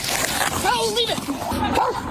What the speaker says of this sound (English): that sounds like the dog's backing down